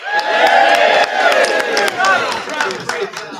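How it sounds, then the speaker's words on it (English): A crowd claps and cheers loudly together at a rehearsal, excited voices and whoops mixing over steady applause. "Everyone give them a round of applause."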